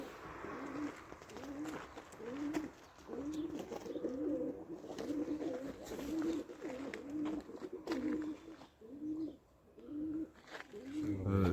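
Pigeons coo in a steady repeating rhythm of soft throaty calls, fairly close and continuous, with someone talking quietly now and then.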